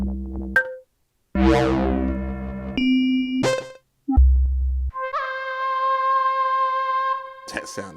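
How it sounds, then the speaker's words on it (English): Synthesizer bell tones played one after another during beat making, each bright chime ringing out then cut off, with pauses between, ending in a long sustained bell note, close and clear. "I always like a good bell sound"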